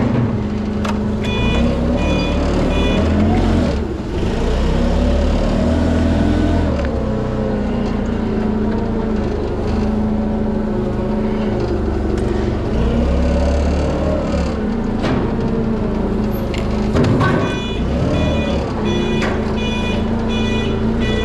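A forklift truck in a metal stamping shop drives with its engine running loudly and close, while a repeated electronic reversing beep sounds in bursts over the engine noise throughout.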